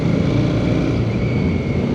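A Royal Enfield Shotgun 650 motorcycle engine runs steadily close by, giving a dense, even rumble with a faint whine on top and no break in the sound.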